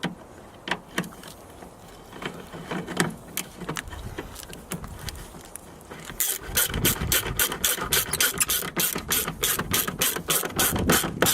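A ratchet wrench loosens the top bolts on a Ford Super Duty, its pawl ticking in close, steady bursts that quicken into a dense, continuous run of clicks in the second half.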